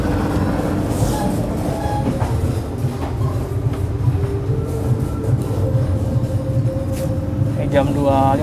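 A Gumarang passenger train pulls into Semarang Tawang station with a constant loud rumble and rattle of the carriages, faint squeals and clicks riding over it, heard from inside the train.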